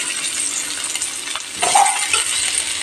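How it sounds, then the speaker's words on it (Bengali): Boiled potato pieces frying in hot mustard oil in a kadai over medium heat, a steady soft sizzle with a brief metallic scrape of stirring partway through. "মিডিয়াম হিটে আলুও ভেজে নেব, নেড়ে দিলে।"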